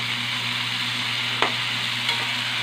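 Bitter gourd (ampalaya) fries in a pan with a steady, dense hiss and sizzle that carries on without a break. A couple of faint clicks from the utensil cut in briefly, and nobody is talking.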